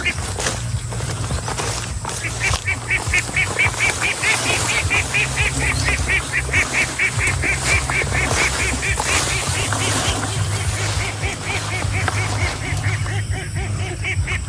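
A flock of domestic ducks on a duck farm quacking continuously and loudly, overlapping calls in a dense rhythmic chorus, nearby outdoors with a faint voice in the background.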